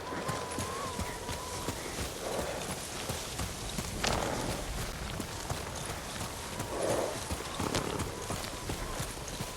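Horse hooves clip-clop at a steady trot in the video game Ghost of Tsushima during worsening whiteout weather, a continuous rhythmic patter over a windy background with occasional louder thuds.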